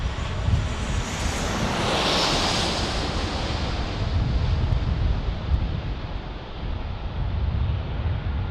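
A Boeing 767 airliner passes at San Diego airport, its loud, broad jet roar sweeping steadily across the whole stretch with a rushing, windy wash and no talk.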